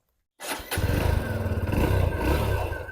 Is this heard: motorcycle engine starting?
yes